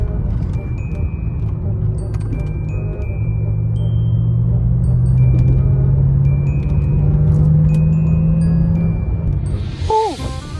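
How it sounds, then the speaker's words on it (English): BMW M5 driving on a winding back road, a steady engine drone and tyre rumble that rises in pitch through a long pull, with voices over it inside the cabin. "it's one of my first times taking this car on a back road like this"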